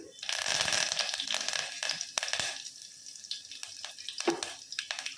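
Curry leaves drop into hot oil for a mixed-vegetable pulusu, setting off bursts of crackling and spattering sizzle that flare loudly at first, then settle into softer popping.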